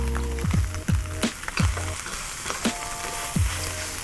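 Shredded cabbage and carrot stir-fried with beef for a hoisin beef noodle dish, a steady sizzle in the pan broken by several sharp knocks and scrapes of tossing at roughly half-second intervals.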